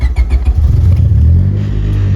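A Honda Civic engine running after a P28 ECU and OBD1 conversion, loud and close, with short throttle blips in the first second before settling into a steady, even idle.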